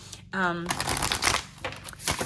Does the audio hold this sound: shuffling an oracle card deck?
yes